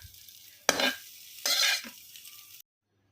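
Jeera rice with coriander being stirred in a pan, two bursts of spoon scraping and soft sizzling separated by a short pause, close and moderately loud, ending in silence.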